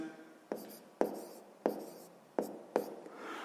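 Pen writing on paper while working a sixth-grade math exercise: a quiet, close scratch with five distinct tapping strokes spaced about half a second apart, each fading quickly.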